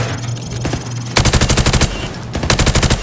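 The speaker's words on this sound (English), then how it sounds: "I want you to shoot the targets through the wood." Bursts of rapid automatic gunfire rip through plywood at targets on a Call of Duty Modern Warfare Remastered firing range, two loud close volleys separated by a short pause after quieter scattered shots.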